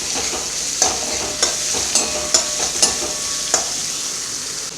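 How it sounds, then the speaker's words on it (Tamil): Onions frying in a pan until golden brown for dal tadka, a steady close sizzle broken by about six sharp scraping stirs of a spatula, spaced roughly half a second to a second apart. "கொஞ்சம் வெங்காயம், வெங்காயம் நல்லா கோல்டன் ப்ரௌன் ஆகிற வரைக்கும் ஃப்ரை பண்ணிப்போம்."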